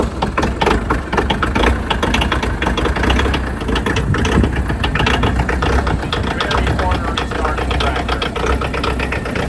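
A tractor engine idles on a cold day with a steady loud rough rumble and fast knocking chatter, running continuously close by throughout.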